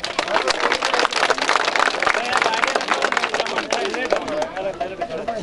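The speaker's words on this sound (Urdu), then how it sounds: "زوردار تالیاں" A crowd gives loud, dense applause at a polo tournament prize ceremony in Gilgit-Baltistan. The many hands clap steadily for the whole stretch, with a few voices mixed in.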